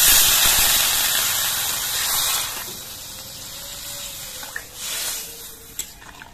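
Broth is poured into a hot pan of frying ritha fish curry with eggplant, setting off a loud, close burst of sizzling hiss that gradually settles into a softer steady bubbling, with no talk.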